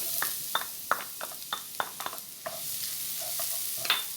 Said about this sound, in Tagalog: minced garlic, stir fry a bit